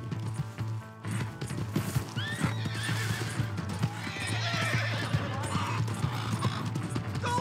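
Clip-clopping horse hooves and a sharp whinny from a horse in the Red Dead Redemption 2 video game, hoofbeats steady and close throughout with a shouting voice over them.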